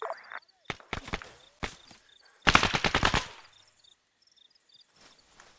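Gunfire in the video game ArmA 3: scattered single rifle shots, then a rapid burst of automatic fire cracking close and loud, and finally quiet, distant pops and faint ticks.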